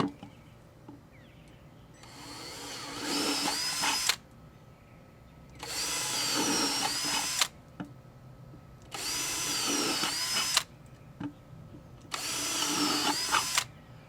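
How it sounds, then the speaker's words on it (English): A power drill bores holes through a bell siphon gravel guard for a backyard aquaponics system, four loud whirring bursts of about two seconds each with short quiet gaps between, close by and free of talk. "So let's go ahead and drill some holes."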